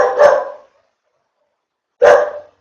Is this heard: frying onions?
no